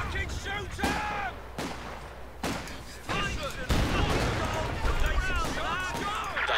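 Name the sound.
gunfire in a war video game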